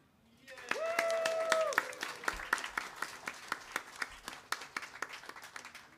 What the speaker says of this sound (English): a big round of applause for NAMI